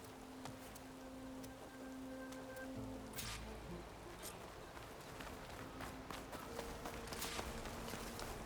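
Steady rain falling in the video game Horizon Forbidden West, a faint continuous patter on surfaces with scattered louder drops and light footsteps over a low ambient hum.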